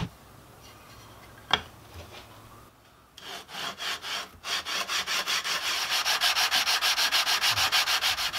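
Close, rhythmic hand sanding on a wooden acoustic guitar brace: quiet at first, then steady back-and-forth rasping strokes that grow louder and faster, with no talking.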